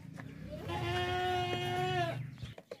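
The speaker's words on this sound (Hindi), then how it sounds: "बहुत ही ज़बरदस्त बकरा है" A sturdy male goat at a livestock market lets out one loud, drawn-out bleat at close range, with some background noise before and after.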